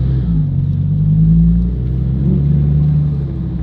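A car engine revs loudly and close, a deep sustained rumble that swells and eases slightly over a few seconds, with no talk.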